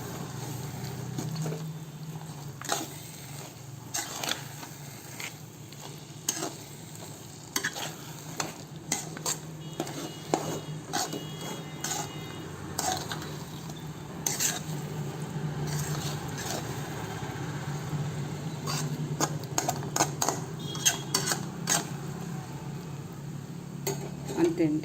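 Gongura (sorrel leaf) pickle stirred in a pot with roasted fenugreek and mustard powder, giving a steady scraping, clinking stir with soft sizzle underneath and occasional sharp utensil taps against the pot, close and alone without talk.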